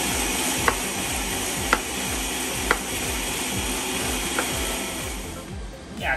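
Ninja blender running on low while blending melon for agua fresca, a steady loud whirring hum with a rhythmic chopping pulse and a few sharp clicks, winding down near the end.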